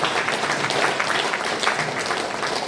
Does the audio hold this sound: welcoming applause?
yes